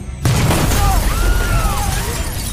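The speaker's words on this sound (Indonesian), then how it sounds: "tiba-tiba mobil mereka yang berada di pinggir jalan meledak" A car parked at a roadside in Baja California explodes with a sudden loud blast, then a sustained, heavy roar that rumbles on for about two seconds with faint whistling tones above it.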